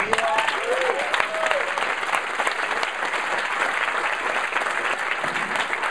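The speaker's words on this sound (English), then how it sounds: "round of applause." Audience applause at a live talk event, a dense steady clapping from a crowd that holds at even loudness for several seconds.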